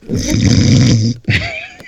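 A man gives a loud, close vocal imitation of snoring: one long rasping inhale-snore, a brief pause, then a shorter snort.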